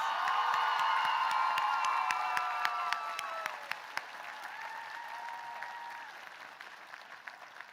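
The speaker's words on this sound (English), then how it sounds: "Can we give Chandler another round of applause?" Commencement audience at the 2026 Agnes Scott College ceremony gives a full, dense round of applause with a few cheers, loud at first and then tapering off over several seconds.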